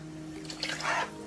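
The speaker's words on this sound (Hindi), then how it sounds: "पानी थोड़ा सा डाल दूंगी" A little water is poured into a pan of spinach and egg semi-gravy, producing a short splashing gush of about half a second, close by and alone.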